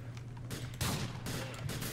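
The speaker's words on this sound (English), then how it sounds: "is there still more gunshots or something?" Video game gunfire: a short burst of several rapid shots in quick succession, fairly faint and mixed with background noise, with no talk over it.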